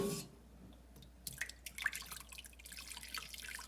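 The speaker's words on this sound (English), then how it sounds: "We're gonna pour in some hot water." Hot water poured into a bowl for oatmeal makes faint, scattered splashes and drips that come and go over a quiet background.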